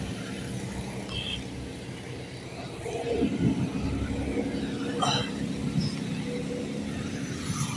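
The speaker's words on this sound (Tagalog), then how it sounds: "Ang dami ng sasakyan." Cars and traffic go by on a super highway at night, a continuous rumbling road noise with one vehicle swelling louder as it passes near. There is no talking.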